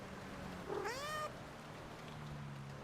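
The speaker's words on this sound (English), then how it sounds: "oh, we got a cat in the house." A cat inside a house gives a single clear meow partway through, rising and then falling, against a faint steady background hum.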